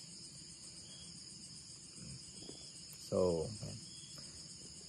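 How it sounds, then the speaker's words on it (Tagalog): Crickets chirping at night in the Cebu province countryside during a typhoon, a steady high shrill trill throughout, with a person speaking briefly. "Ganito talaga sa probinsya guys, maingay yung mga kuliglig."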